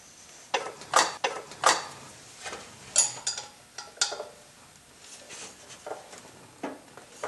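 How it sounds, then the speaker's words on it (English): Half-inch retaining bolts come off a water pump on a Dodge 318 5.2L engine, producing a run of close metallic clicks and ratchet ticks in irregular bursts, moderately quiet. "I'm going to take and remove the rest of these retaining bolts."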